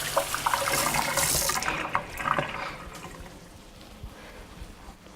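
Tap water runs into a sink while seasoning is washed off hands, a close splashing rush that gradually quiets toward the end.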